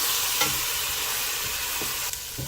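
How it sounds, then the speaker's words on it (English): A pot of bean stew with linguica sausage and pork is stirred with a steady wet scrape and soft bubbling, a few louder clacks of the spoon against the pot standing out over a constant low sizzle. "I keep stirring."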